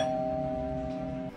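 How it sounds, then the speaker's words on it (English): A single clear Ring doorbell chime tone rings out steadily, then cuts off near the end. "your doorbell should sound like this and sound normal"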